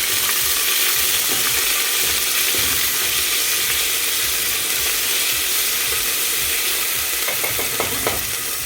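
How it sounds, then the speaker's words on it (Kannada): Ginger garlic paste fries in hot oil in a pan for veg biryani, with a loud continuous sizzle and occasional scraping stir strokes, no voices. "ಒಂದು ಚಮಚ ಶುಂಠಿ ಬೆಳ್ಳುಳ್ಳಿ ಪೇಸ್ಟ್ ಹಾಕಬೇಕು. ಹಾಕಿ ಅದನ್ನ ಅಲ್ಲಾಡ್ತಾರೆ ಚೆನ್ನಾಗಿ."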